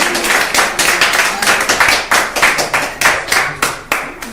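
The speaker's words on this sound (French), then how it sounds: "et sous vos acclamations, bien sûr" A church congregation claps in a quick, regular rhythm to welcome a prophet, the strong unison beats continuing loud and close throughout.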